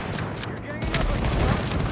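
Sniper rifle gunfire in the video game Tom Clancy's The Division, loud booming shots and rolling echoes amid dense combat noise, with a player talking over it.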